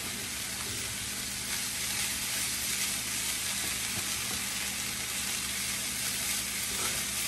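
Chopped onion sautéing in a pot at the start of a one-pot rice dinner, giving a steady, dense sizzle that holds at an even level from start to finish with no voices.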